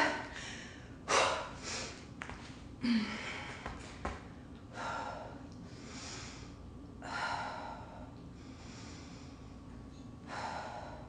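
Heavy breathing from a person holding a reverse plank during a bodyweight ab workout: close, effortful gasps and forceful exhales recurring every second or two, with occasional sighs and snorts, and no speech.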